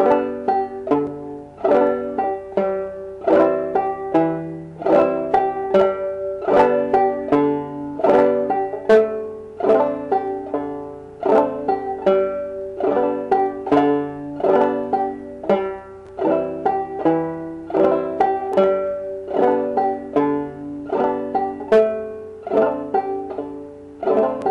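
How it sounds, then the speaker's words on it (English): Claw hammer banjo frailing, the thumb alternating between the third and fourth strings, plays a steady bouncing rhythm of bright plucked notes and brush strums, close and clear with no talking. "we are doing claw hammer banjo"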